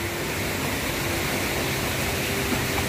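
A running creek at a resort in Tayabas, Quezon Province, flowing as a constant, even rush of water, broad and fairly loud, steady throughout with no voices.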